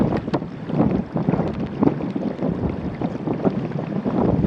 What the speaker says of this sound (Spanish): Se ha levantado muchísimo viento aquí, es súper molesto.